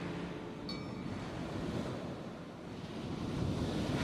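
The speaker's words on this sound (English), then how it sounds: "I'll turn down the waves" Ocean waves and surf used as a background sound effect wash in a steady, continuous roar with gentle swells of loudness, heavy and broadband throughout with no voices.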